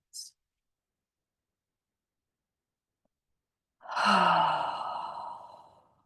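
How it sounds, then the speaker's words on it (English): A single slow, deep breath taken in and released during a guided yoga nidra relaxation, an airy breathy exhale close to the microphone after a short pause, with no talking. "take a nice deep breath in and out"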